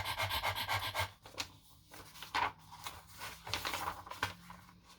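Several people imitate a dog panting with quick, breathy huffs in a rhythmic run, then looser scattered puffs, close and fairly quiet.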